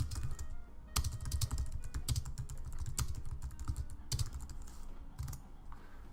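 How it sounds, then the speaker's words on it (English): Steady typing on a computer keyboard, keys clicking in uneven quick runs with brief pauses between bursts, close up and fairly quiet, with no voices. "We're gonna use the text tool again and just write some random text."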